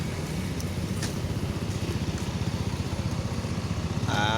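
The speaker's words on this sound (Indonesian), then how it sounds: "Motor ini mengganggu saja." A motorcycle buzzes along a city street near a bus arrival point, its pulsing mid-pitched engine throb steady and fairly close throughout, with a brief higher whine rising at the end.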